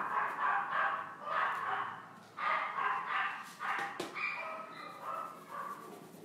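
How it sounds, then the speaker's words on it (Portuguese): Several dogs bark repeatedly outdoors in rhythmic bursts of yips and barks, moderately loud and slightly distant, with no talking over them. "meus cachorrinhos estão tudo latindo lá fora."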